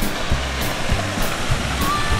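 A stream flowing by a fishing pond, Pesqueiro Córrego das Antas, as a steady, loud broadband rush of water with low rumbling thumps under it, continuous throughout.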